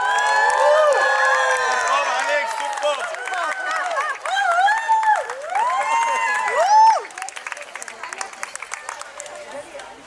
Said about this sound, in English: Let's make some noise for Nandi and Mohit.